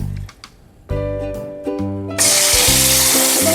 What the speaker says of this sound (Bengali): এবারে আমি সমস্ত মাংসটাই দিয়ে দিচ্ছি